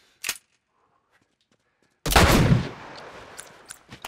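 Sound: gunshots in The Last of Us video game

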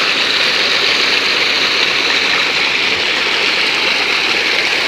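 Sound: irrigation water flowing through silage corn field

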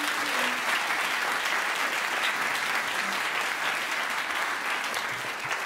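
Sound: applause for the soundmen

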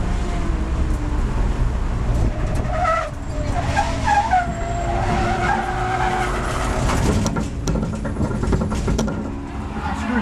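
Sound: race car skidding on locked-up brakes

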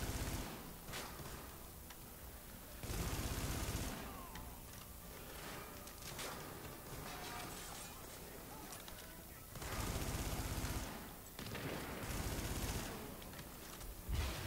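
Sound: gunfire in the video game The Division

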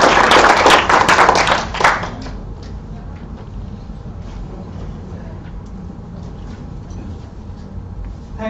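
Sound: audience round of applause at lecture

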